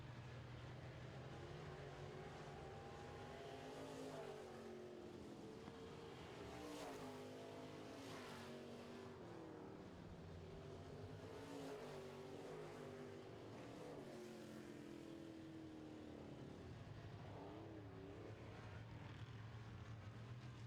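Midwest modified race cars circle a dirt track at a heat race, a continuous loud engine roar rising and falling as cars pass, steady throughout with no break.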